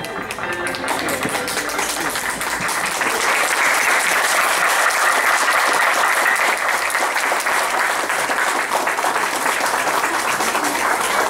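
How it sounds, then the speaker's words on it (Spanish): Wedding guests applaud the newlyweds in a steady, dense burst of clapping that fills the room and holds strong throughout without a break. "¡Fuerte esa palma para los novios!"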